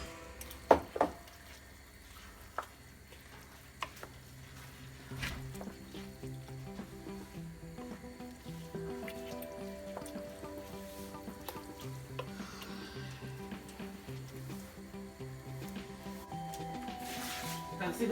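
Meat stock is poured into a pot of Nigerian jollof rice, giving a steady watery bubbling and sizzle over the cooking base, with a few sharp clinks early on and a splashy swell near the end.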